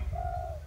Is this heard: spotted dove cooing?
yes